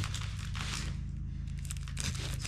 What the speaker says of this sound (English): Don't got scissors, so we gotta open it with the screwdriver.